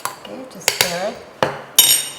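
Spoon clinking and scraping inside a glass while stirring Thai milk tea topped with milk foam, a few sharp metallic taps and swirls close up, with no one talking.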